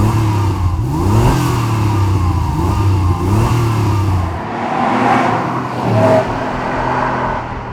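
A rare Porsche 911 with a 3.6-litre single turbocharged engine accelerates hard on a track, revving up through several rising pulls in a loud, close run before easing off and surging once more.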